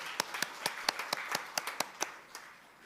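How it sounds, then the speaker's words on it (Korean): A church congregation claps in a sparse, irregular patter of about a dozen separate hand claps, fairly faint in a quiet room and tapering off by the end. "박수로 축하하겠습니다"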